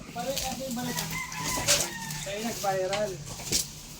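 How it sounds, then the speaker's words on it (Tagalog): Chickens cluck and call repeatedly nearby, with higher crowing notes mixed in over a background of voices and low noise. "Manok."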